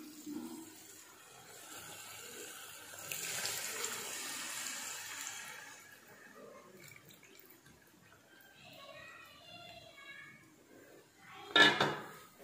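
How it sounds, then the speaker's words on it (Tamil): Tamarind water is poured into a simmering fish curry in a home kitchen, a soft trickling splash with faint pot and utensil clatter and one sharp metallic clink at the end, quiet overall. "புளித்தண்ணி இதில் ஆட் பண்ணிக்கலாம்."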